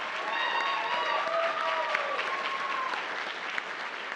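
An audience at a youth talent search in the Enosburg Opera House claps for the contestants, a full, sustained burst of applause with a few high whistles and whoops riding over it.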